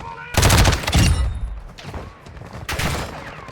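Bursts of rapid gunfire in the video game Call of Duty: Warzone DMZ crackle in a loud volley, fade briefly, then erupt again with another burst near the end.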